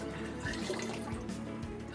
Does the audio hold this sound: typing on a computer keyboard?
no